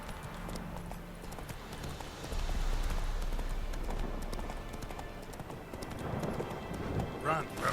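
Roach, the horse in The Witcher 3 video game, gallops with rhythmic clip-clop hoofbeats beneath a man's speech, ending in a brief whinny near the close.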